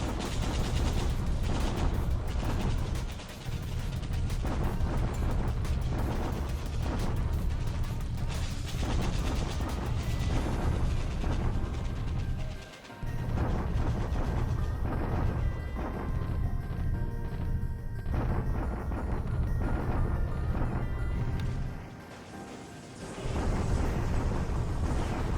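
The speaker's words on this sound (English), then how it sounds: "And bombardments continue at Clark." Bombardment effects in the war video game Alphabet Command, a continuous heavy rumble of explosions and artillery-like blasts rolling on for the whole stretch, loud and dense with only a few brief dips.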